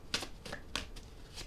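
Playing cards being shuffled, a short series of quick riffling bursts, four or five soft flutters close by, with no talk over them.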